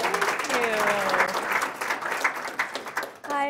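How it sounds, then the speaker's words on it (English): An audience at a genealogy day event applauds a speaker taking the stage, a full, sustained round of clapping from a roomful of people, with someone's voice faintly heard through it and a voice rising near the end. "So please give Marcia a warm round of applause"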